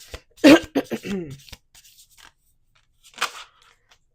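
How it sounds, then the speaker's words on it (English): A person coughs, with a harsh cluster of throaty bursts early on and one more rough cough a couple of seconds later, close and fairly loud against a quiet room. "Now I can't stop coughing."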